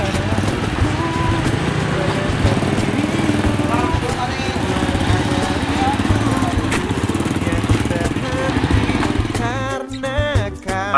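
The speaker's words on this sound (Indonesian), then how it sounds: "Kita pakai motor ke sana." Motorcycle riding along a route through forest toward Ujung Genteng beach, its engine droning steadily and loudly throughout with wind buffeting, while faint voices sit under the engine noise near the end.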